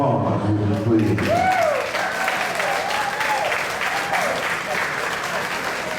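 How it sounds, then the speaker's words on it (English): Crowd applause for veterans at an outdoor picnic gathering, swelling after a voice ends and continuing steadily with cheers and whistles rising over the clapping. "let's give these veterans a round of applause"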